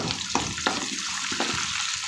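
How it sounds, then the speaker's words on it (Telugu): Chopped onions hit hot tempering oil for a tomato and okra curry, giving a close, steady sizzle broken by a few sharp clinks from the spoon or pan, with no talking. "ఇప్పుడు మనం కట్ చేసి పెట్టుకున్న ఉల్లిపాయలు వేసేయాలి."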